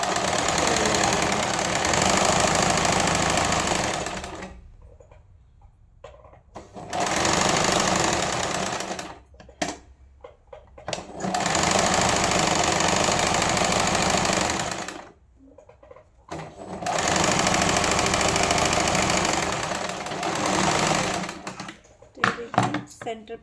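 A sewing machine stitching lehenga fabric for a child's outfit runs in fast, even bursts of a few seconds each, separated by quiet pauses with small handling clicks, close and fairly loud.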